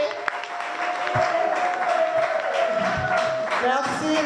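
An audience applauds steadily for a woman named Olga at a gathering, the clapping continuous and fairly loud for several seconds with a sustained tone and occasional voices mixed in.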